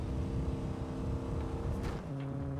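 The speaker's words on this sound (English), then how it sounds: "Your car just like farted and stopped" A car in the Battlefield Hardline video game sputtering and cutting out, its engine drone steady and fairly loud before abruptly dropping to a lower hum near the end.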